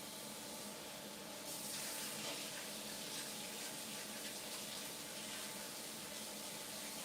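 A tap runs steadily into a sink, the faint hiss and splash growing a little fuller partway through, then holding constant with no voices.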